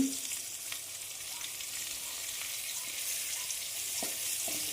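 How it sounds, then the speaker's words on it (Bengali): Slices of pointed gourd (potol) sizzle steadily in hot oil in a home kitchen pan, a continuous close hiss with a few faint pops and utensil taps and no talk. "এই যে ভাজাটা কেন ভাজছি, কারণ পটলে একটা জল জল ভাব থাকে"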